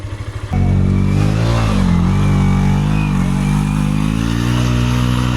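A motorcycle on a muddy rural road in Nepal, an R15, FZ v2 or NS200, sputters to life and then holds a loud, close idle with rising and falling revs and a rough mechanical rumble throughout.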